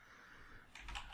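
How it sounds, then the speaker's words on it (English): Quick, light keystrokes on a computer keyboard, a short burst of clicks heard close and quiet. "Sorry, I'm really not typing well today."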